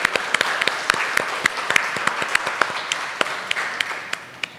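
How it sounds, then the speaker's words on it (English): Applause from a Teacher's Day celebration audience at a school in Matunga, honoring the teachers: steady dense clapping with sharp individual claps standing out, moderately loud and continuous throughout. "You all deserve a big round of applause for this."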